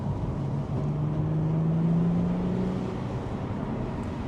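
A Mercedes SLK 350 roadster driving along, a steady loud engine and road drone with heavy wind buffeting and a rising tonal whine through the middle, no talking.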